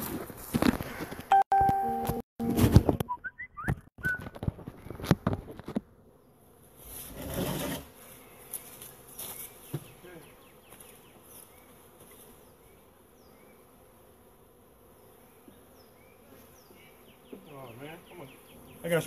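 Handling bumps and clatter at first while installing new honeybees in a hive, then a steady buzzing of many bees fills the background, with occasional closer insects passing by.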